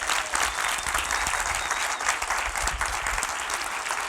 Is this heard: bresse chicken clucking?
no